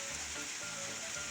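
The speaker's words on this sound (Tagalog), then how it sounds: "Napakalakas po ng ulan dito sa amin ngayon." Heavy rain pours down during an approaching storm, a dense steady hiss of drops hammering surfaces, continuous and close with no voices.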